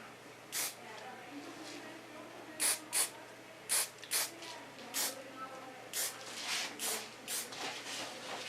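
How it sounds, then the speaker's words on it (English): Goldwell Ultra Soft hairspray sprayed in a string of short, separate hissing bursts, some paired, spread over several seconds at close range during a hair styling session, with quiet background in between. "I use ultra soft hairspray. It's from Goldwell."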